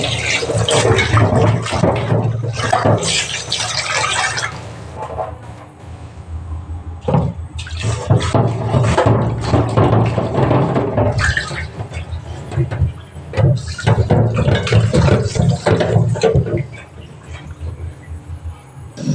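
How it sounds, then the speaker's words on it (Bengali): Running tap water pours steadily into and over a wok as it is washed in a kitchen, with loud continuous splashing and brief changes as the pan is moved under the stream. "কড়াটাকে আগে ধুয়ে নিচ্ছি।"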